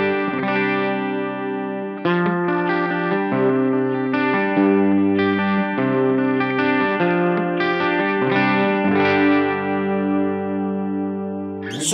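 An electric guitar played through a Flamma FX20 modeling headphone amp on an overdrive setting, with sustained, gritty chords and note runs ringing continuously and close, no voices over it.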